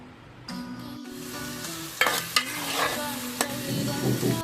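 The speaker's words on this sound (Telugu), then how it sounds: "ముందుగా బాండీ పెట్టుకుని ఆయిల్ పోసుకుని ఉల్లిగడ్డని, పచ్చిమిర్చిని ఫ్రై చేసుకోవాలి." Onion and green chillies frying in oil in a pan, with a continuous close sizzle and a few sharp scraping clicks as a spatula stirs them.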